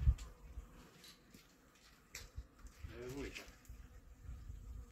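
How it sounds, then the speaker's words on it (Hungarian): Bees buzz steadily in a garden during February seed sowing, a faint, continuous hum with a slightly louder stretch midway, under scattered background noise. "Méhek vannak, apu!"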